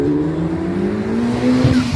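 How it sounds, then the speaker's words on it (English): An Ariel Atom sports car being driven at the Kop Hill Climb near Princes Risborough, a steady loud engine drone with a sustained tonal whine that climbs slightly in pitch over two seconds, close and continuous. "This is our Stig driving the Aerial Atom"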